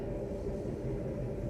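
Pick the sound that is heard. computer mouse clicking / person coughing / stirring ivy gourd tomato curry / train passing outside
train passing outside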